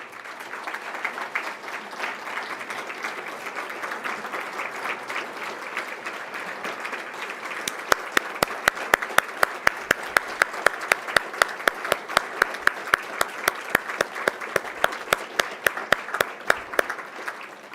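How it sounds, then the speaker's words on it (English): Audience at a scholarship gala applauding donors: sustained dense clapping from a large crowd that grows sharper and more distinct partway through, with individual claps standing out near the end. "So would you please let us applaud you and stand for us, please."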